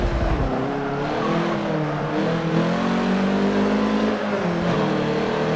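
Race car engines in the Forza Motorsport 7 video game, with a Peugeot among the cars on a short track: a loud, sustained roar of revving engines with shifting pitch as cars accelerate close together, with no voices.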